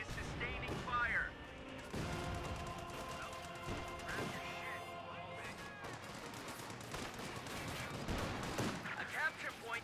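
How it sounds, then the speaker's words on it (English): Incendiary mortar shells fired in a barrage strike a fighting position in Company of Heroes 2, with repeated explosive thuds and crackling impacts mixed with distant gunfire, heard beneath a commentator talking. "Incendiary mortar barrage or incendiary lag barrage onto the fighting position."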